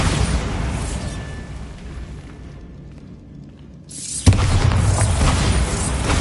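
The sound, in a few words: Bombarda spell explosion in a Harry Potter video game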